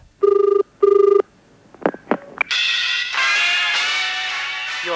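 Telephone ringing before an answer phone picks up: two loud electronic ring bursts with a short pause between, then clicks of the line connecting and a hissing tone.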